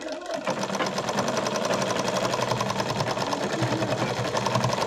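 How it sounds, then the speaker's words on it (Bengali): An electric sewing machine runs a double stitch along a salwar, giving a fast, even, rapid-fire chatter that stays close and loud throughout after a brief quiet start. "কলির জায়গাটায় ভালো করে একটু ডবল সেলাই দিয়ে দিলাম।"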